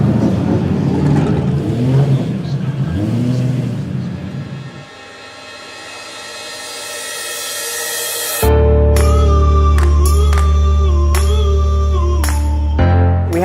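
Race cars at Daytona International Speedway roar past one after another, each engine note rising and then fading. Later a loud, steady, high-revving engine whine comes in, with sharp gear-change cuts, close and dominant.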